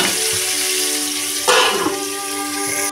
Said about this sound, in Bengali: এবার বেগুনটাকে আমি একদম হালকা করে ভেজে নেব